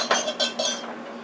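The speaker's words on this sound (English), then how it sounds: "just stir the bottom of the frying pan to get up all that goodness" A metal utensil scraping and clinking against the bottom of a frying pan while making pan gravy for a stuffed Texas T-bone steak, three quick close clinks followed by a fading rattle.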